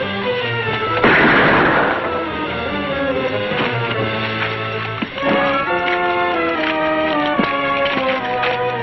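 A burst of gunfire in a western TV episode, one sharp loud report standing out early amid a busy background of music and effects.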